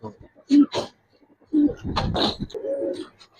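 Fancy coloured pigeons coo in short, close, fairly loud bursts with pauses between them. A voice can be heard nearby.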